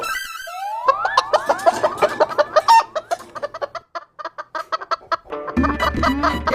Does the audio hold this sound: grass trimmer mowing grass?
no